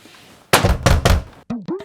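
A stuck door is shoved and banged: three heavy thuds in quick succession, close and loud, followed by brief voices.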